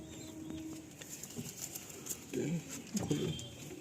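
Pigeons in a Behala loft give a few soft, low coos close by, with light rustling and scattered faint background noise and no clear talk.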